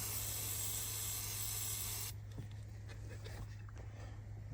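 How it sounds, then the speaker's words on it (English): A steady, loud hiss of aerosol spray runs for about two seconds and then cuts off, leaving quiet background hum with faint handling noises, while freeing a stuck parking brake on a Can-Am Spyder. "spray some more on it"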